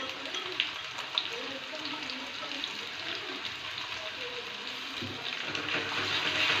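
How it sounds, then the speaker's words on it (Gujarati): A ginger, green chili and garlic paste fries in a pan for roasted eggplant bharta, a steady, soft sizzle with faint scraping and small clicks, heard fairly close and without talk. "હવે આપણે આદુ, મરચાં અને લસણની પેસ્ટ આમાં નાખી દઈશું."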